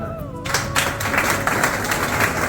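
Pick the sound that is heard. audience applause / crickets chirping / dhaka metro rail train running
audience applause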